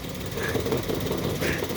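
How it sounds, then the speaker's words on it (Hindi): A Suzuki Wagon R VXR/VXL engine idles with the bonnet open and the AC off, a steady low rumble and vibrating rattle heard up close at moderate level throughout. "यार इंजन तो काफ़ी ज़्यादा हिल रहा है इसका"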